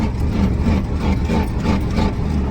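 A worn Ford 6.9 IDI diesel engine running rough off throttle, a steady low rumble with uneven pulsing surges, fairly loud and close, with no voices.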